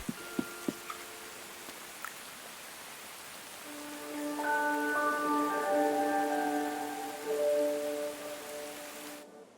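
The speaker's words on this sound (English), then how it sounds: "It is still rainy." Soft, steady rain falls in the video game Tales of the Shire, opening with a few light knocks, then settling into a gentle hiss beneath sustained melodic tones that swell midway.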